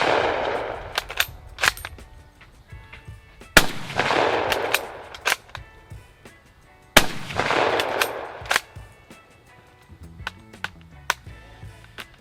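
Rifle fire from a Peruvian Modelo 1935 Mauser, with three sharp, close shots spaced a few seconds apart, each followed by a ringing tail and scattered metallic clacks of a stiff bolt being worked.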